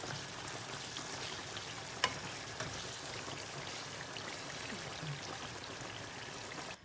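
Meat and pasta stirred together in a hot pan, a steady soft sizzle with scraping and shuffling texture and one sharp clack near the start.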